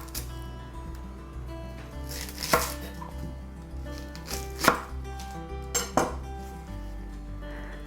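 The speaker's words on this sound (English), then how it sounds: "We'll start by mincing one onion." A knife minces an onion on a cutting board in a home kitchen. It makes a fast, steady run of close tapping chops with a few sharper knocks against the board, and no one speaks.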